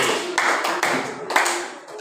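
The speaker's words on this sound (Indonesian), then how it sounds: "Tepuk tangan untuk Rizky." A few bursts of clapping in an Indonesian language classroom, short and close, arriving in three or four quick separated groups over about two seconds.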